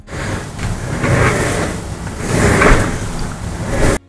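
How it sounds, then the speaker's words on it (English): An office chair on hard plastic casters rolls across a floor in a few uneven surges, a close, gritty rumble that swells and fades over several seconds. "My chair's loud."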